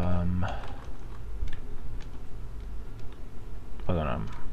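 Keyboard typing of a web search for images, a short burst of clicking keys nearby with someone talking before and after it.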